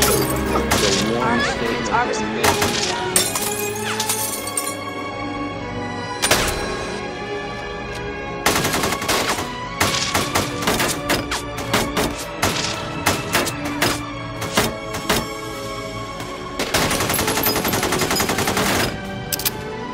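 Rapid bursts of automatic gunfire from heavily armed bank robbers in a 1997 police shootout, loud and sharp, repeating in clusters with brief gaps, mixed with shouting voices and radio-like chatter.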